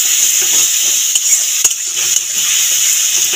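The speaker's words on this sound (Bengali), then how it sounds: "গ্যাস এবার ভালো করে কষে নেব।" Spices stir-fried in a pan on a gas burner, with a loud, constant sizzling hiss and light scraping strokes of a spoon, plus a sharper clink partway through.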